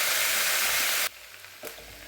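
Onions and potatoes fry in a pan for a small-fish curry. A loud, dense hiss of sizzling fills the first second, then drops sharply to a faint, quieter crackle with one soft bump.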